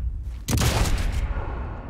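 A single loud, booming sniper rifle shot in the video game Sniper Elite 5 multiplayer cracks out and rolls into a sustained rumbling echo, set against a steady background hum.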